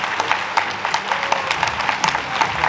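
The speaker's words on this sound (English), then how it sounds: "So could you all give a round of applause for Dr." Audience applause at a celebration learning session, a steady wash of many hands clapping throughout, moderately loud with a few sharper claps standing out.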